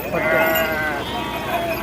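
A sheep bleats close by in one wavering call, with voices and farmyard noise around it, at the Gudur sheep and goat market.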